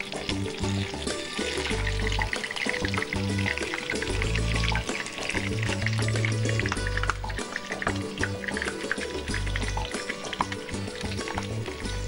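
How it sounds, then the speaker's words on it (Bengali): Prawn salami made from large prawns fries in a pan on a cooking show, a continuous sizzle and bubbling heard under steady background music. "চিংড়ির সেলামি ভাজা ভাজা হচ্ছে"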